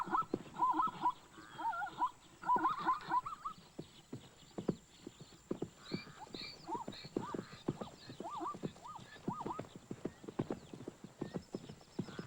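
Zebra stallions fighting, hooves clattering in rapid irregular clip-clop bursts alongside several shrill whinnies and squeals, close and loud, the scuffle continuing steadily throughout.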